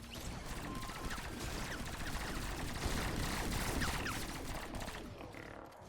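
Automated turrets fire in steady, overlapping bursts during a Fortnite Save the World escort defense, with mechanical clatter and crashes layered into a continuous, fairly quiet barrage that cuts off at the end.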